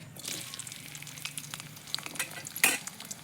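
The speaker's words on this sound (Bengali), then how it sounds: "পেঁয়াজটা ভেজে নেবো আগে" Onions crackle and sizzle softly in a pan while a utensil stirs them, with a sharper clatter near the end.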